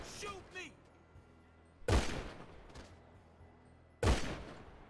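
Two loud, sharp blasts from a heavy gun in the video game GTA 5, fired about two seconds apart, each with a ringing tail, while zombies are being cleared; brief voice sounds near the start.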